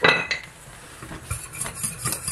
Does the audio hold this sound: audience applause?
no